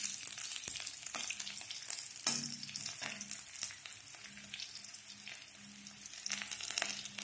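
Chopped onions frying in a pan for an Odia sajan patara and pumpkin flower fry, a steady close sizzle with occasional stirring scrapes and no voices.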